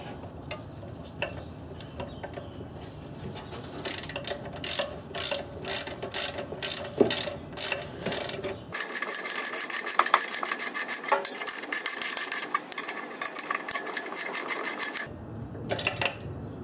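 Ratchet tightening the muffler flange bolts on a Honda Accord during a muffler and B-pipe replacement, a close, loud run of rapid clicking strokes in repeated bursts with short pauses, no talking.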